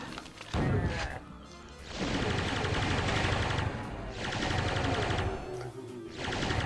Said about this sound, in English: just simply to get out of the way of all the chain guns, if I can